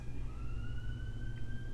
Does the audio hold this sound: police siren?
yes